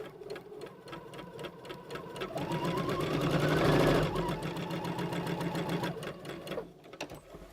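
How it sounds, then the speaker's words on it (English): A sewing machine runs a straight row of stitching across fabric with no backstitching, its rapid needle chatter building in speed and loudness mid-run before slowing, close and steady with no talk. "we're going to just stitch this across with no back stitching."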